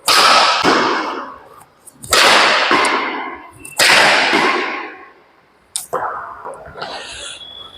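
Badminton smashes from the baseline crack sharply against the shuttlecock, three loud whip-like hits about 1.5 seconds apart, followed by a fourth softer stroke.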